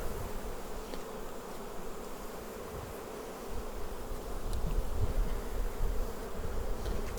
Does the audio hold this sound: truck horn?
no